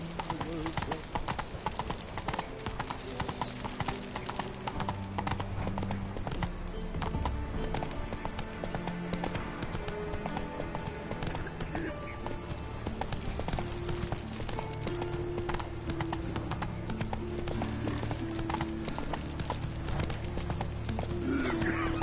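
Roach the horse galloping in Witcher 3, rapid continuous hoofbeats under layered game music with a brief whinny, loud and steady throughout, with talk mixed in.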